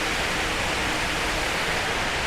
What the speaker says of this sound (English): And you can see the waterfall from here.